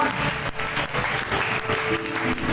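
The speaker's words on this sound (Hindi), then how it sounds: "जोरदार तालियां" An audience at a Hindu religious discourse on Shiva claps loudly and continuously, a dense crowd applause that stays even throughout.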